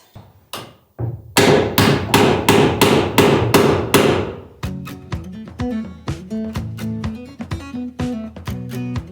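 A hammer strikes repeatedly during an off-grid house build, loud close blows in a quick steady series, then shorter tapping hits with ringing tones at a looser rhythm.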